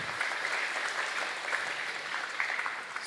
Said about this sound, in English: Please give big applause for him.